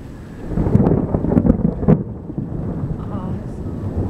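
Thunderstorm with rolling thunder rumbling loud and close, several low cracks and booms over a steady wash of rain and wind, with faint voices in the background.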